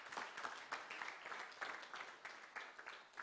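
Audience applause after presentations at a business event on intellectual property in Zimbabwe, a steady wash of many hands clapping at moderate distance, fairly faint, with no talk over it.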